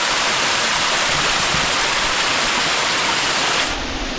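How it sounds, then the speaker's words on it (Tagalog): Strong water flow pouring over a waterfall, a dense, loud, unbroken roar of rushing water that fills the whole moment, close and steady with no voices. "Sa ngayon po, medyo malakas yung tubig sa force dito."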